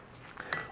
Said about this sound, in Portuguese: tirar a tampa da minha panela, colocar aqui do lado